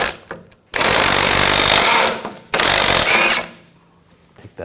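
A power tool, likely an impact wrench, spins a 22mm socket to remove a nut on the front suspension of a 2000–2006 BMW X5, in two loud bursts of about a second each with quiet pauses between.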